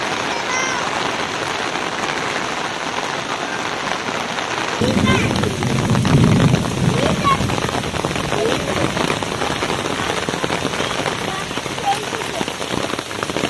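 Heavy rain pours outdoors near Mawlynnong in a dense, loud, continuous hiss of drops hitting surfaces. The downpour grows heavier about midway.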